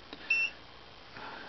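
An electronic tester checks diodes during a modification of an HY 851 antenna and gives one short, clean beep against a quiet background, with no talking.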